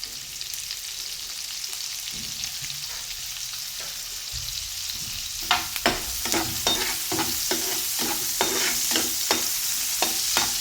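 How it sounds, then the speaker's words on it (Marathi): Chopped onion sizzles in hot oil with cumin seeds in a pan for a spinach thecha, a steady close hiss that grows busier as a spoon stirs with scraping clicks in the second half. "त्यानंतर आता इथे आपण कांदा टाकून घ्यायचा आहे"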